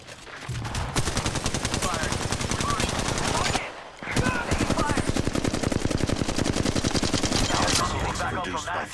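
Rapid bursts of automatic gunfire in the Apex Legends Mobile video game, dense loud repeated shots with a brief pause midway before firing resumes.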